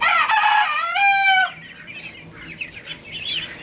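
A rooster crows loudly up close on a poultry farm, followed by softer clucking and chatter from several chickens in the background.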